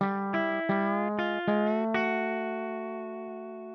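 A guitar lick of sustained, ringing notes that glide upward with exaggerated slides, several picked steps followed by a long fading note.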